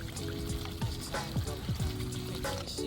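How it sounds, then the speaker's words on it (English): Thompson Seedless 'Flame' grapes from a backyard garden are rinsed under running water, a steady close splashing hiss with small shifts as the bunch moves in the stream. "Just giving these grapes a quick rinse."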